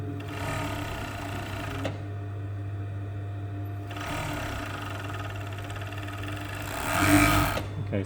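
Overlocker stitching the fabric edge of an unlined jacket vent, a close steady mechanical whir under a low hum, running in bursts with short pauses between them.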